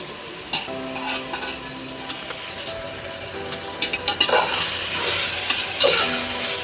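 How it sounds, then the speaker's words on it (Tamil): Vegetables sauté in ginger garlic paste in a pan for mushroom biryani, a constant sizzle with a spoon stirring and scraping, growing louder and busier toward the end. "இந்த காய் போட்டுட்டு பாருங்கள் ஒரு அஞ்சு நிமிஷம் நல்லா அந்த இஞ்சி பூண்டு பேஸ்ட்டில் வதங்கட்டும்"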